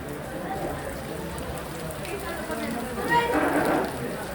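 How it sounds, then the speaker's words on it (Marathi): Rain falling outdoors at a gathering where people had come to eat, a broadband hiss of drops on surfaces with a swell near the end, under some background talk. "नको, पाऊस येतोय."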